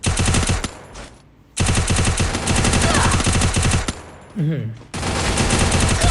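Sniper gunfire in the mobile battle royale game Free Fire: loud bursts of rapid shots in two long stretches broken by short pauses, with a faint voice in the background.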